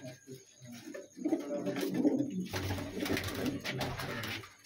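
Soft repeated pigeon coos at a pigeon tournament in Lahore, mixed with low bird murmurs, growing busier and louder midway with some rustling.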